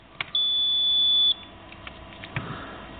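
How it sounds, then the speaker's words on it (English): A battery management system alarm gives one sustained high electronic beep lasting about a second, followed by faint clicks and low handling noise nearby. "I'll just reconnect the data connector and it should silence the alarm"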